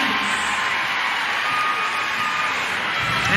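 Crowd noise at a WNBA game between the Phoenix Mercury and Washington Mystics, a steady loud roar of cheering and applause from the arena stands after a Mystics play, with no break across the few seconds.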